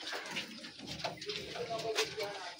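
Racing pigeons coo in a loft, several soft throaty calls overlapping close by, with a person's voice speaking beneath them.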